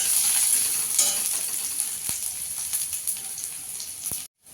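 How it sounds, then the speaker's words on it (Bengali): Chopped onion sizzles in a spoonful of oil, a steady close frying hiss with a few sharp stirring knocks, ending in a brief silence before the sizzle returns. "পেঁয়াজটাকে একটু লাল করে ভেজে নেব।"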